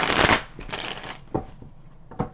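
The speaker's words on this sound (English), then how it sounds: "Just got to shuffle this deck here" A deck of tarot cards is shuffled up close, a dense riffling burst followed by a few softer sliding taps, with no talking.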